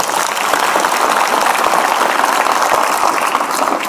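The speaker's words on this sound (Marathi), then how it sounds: "एकदा कडाडून टाळ्या तुमच्या आई वडिलांसाठी वाजवायचे।" Loud, dense audience applause at a Marathi lecture, a sustained even roar of many hands clapping close up throughout, with no talk over it.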